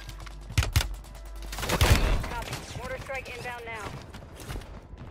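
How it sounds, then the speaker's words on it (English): Gunfire in an online multiplayer shooter game, fired through walls at a bottom floor, comes as several sharp bursts early on, mixed with game sounds while players talk over voice chat. "They're shooting through walls, man."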